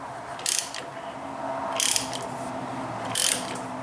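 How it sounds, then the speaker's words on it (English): Thread chaser turned by a ratcheting wrench in the cross-threaded spark plug hole of a small engine's cylinder head, giving three short bursts of ratchet clicks about 1.4 seconds apart over a quiet background hum. "you are cutting the new threads into the cylinder head"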